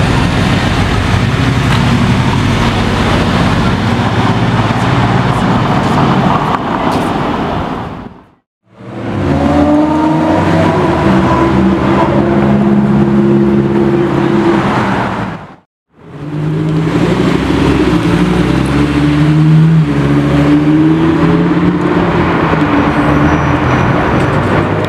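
Twin-turbo Lamborghini Huracán with a race setup, loud and close, its engine droning and revving steadily across three long stretches broken by two brief gaps of silence.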